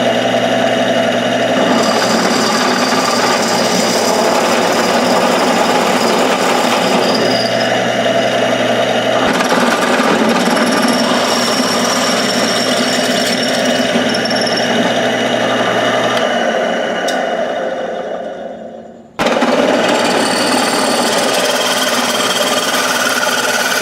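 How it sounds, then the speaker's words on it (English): A drill bores through metal on a GS550 cafe racer gauge mount as bits are stepped up in size, a loud, continuous whining grind close by that cuts off briefly near the end before resuming. "we'll keep upsizing the drill bits"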